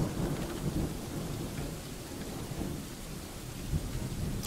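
Steady rain ambience from the video game Dwarf Fortress, a dense continuous hiss of falling drops with low rumbling thunder underneath, no voices.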